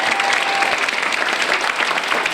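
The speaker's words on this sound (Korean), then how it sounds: "이게 또 박수 한번 나오게 돼요." An audience applauding at a fan meeting and lecture concert, with dense, continuous clapping, loud and even throughout.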